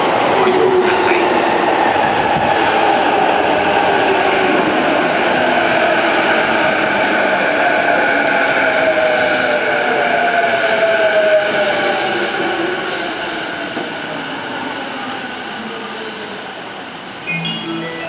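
A train rumbles and screeches along the platform at Kanda Station, Tokyo, wheels squealing and brakes hissing as it slows, with a faint Japanese announcement voice in the background.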